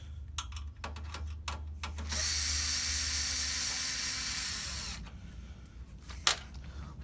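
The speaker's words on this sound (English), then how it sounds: "The next step is to remove these 2 screws" A power screwdriver whirs for about three seconds in one sustained run while removing screws from a Toshiba eStudio 55 fuser, framed by quieter clicks and handling taps before and after.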